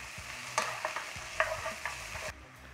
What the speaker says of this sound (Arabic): هون بدي اضيف الثوم، اوكي؟ شيل الثوم ضيفه، وكمان بدي اقلبه معه.